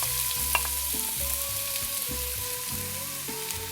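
Chopped medium onion sizzling in two tablespoons of oil in a hot skillet, a steady close frying hiss with occasional stirring scrapes and small pops, no talking.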